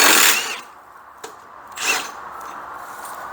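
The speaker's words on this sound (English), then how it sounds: "just got a new impact wrench and I get to try it out first time" An impact wrench loosening the old blade on a Craftsman Platinum lawn mower gives two short, whirring bursts with a sharp tap between them, close by and with no talking.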